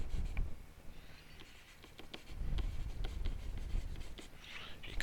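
A pen scratches out a fraction on a board or tablet during a math lesson, with quick, close strokes and taps in an irregular rhythm and no talking.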